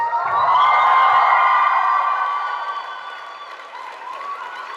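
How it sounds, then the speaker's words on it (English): A graduation ceremony audience applauds and cheers, loud and sustained at first, then gradually thinning and fading over about five seconds. "I would like to ask all of you to give a huge round of applause"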